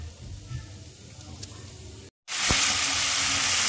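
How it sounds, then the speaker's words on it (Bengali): Shrimp fry in mustard oil in a wok: a soft sizzle first, a brief silence, then a loud, bright hissing burst of frying that carries on steadily to the end. "এখন সর্ষের তেলটা কড়াইয়ের মধ্যে দিয়ে দিই, দিয়ে চিংড়ি মাছগুলোকে ঝপাঝপ ভেজে নিই।"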